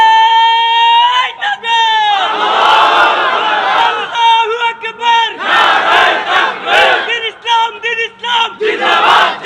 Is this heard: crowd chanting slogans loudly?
yes